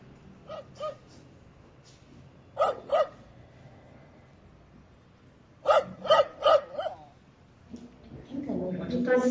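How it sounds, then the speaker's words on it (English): A recorded dog barking is played back, heard as three clusters of sharp, fairly loud barks with pauses between them over a low background hum, followed by a rougher noise at the end. "it's a dog barking"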